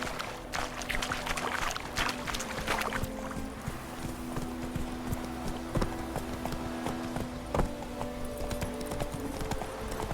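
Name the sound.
horse Roach hoofbeats in video game The Witcher 3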